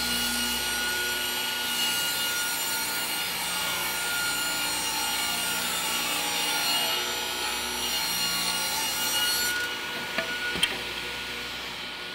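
A table saw rips wooden boat frame stock for a 23-foot V-bottom skiff, a loud continuous whine and grinding cut that drops away near the end, with no talk.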